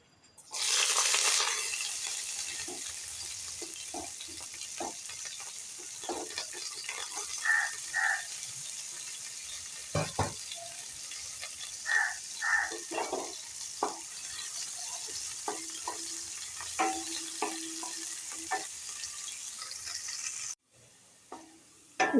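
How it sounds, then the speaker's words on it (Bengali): Bitter gourd pieces sizzle quietly in hot oil while being stirred, with scattered clinks and scrapes of a utensil against the pan over a soft continuous fry, close by. "এবার উচ্ছেগুলো হালকা করে ভেজে নেব।"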